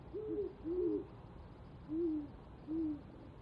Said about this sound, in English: I have owls playing in the background.